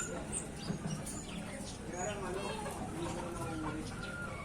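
Rooster and hen held close at hand, giving soft, intermittent clucks and low chicken calls over a busy outdoor background of distant birds and faint voices.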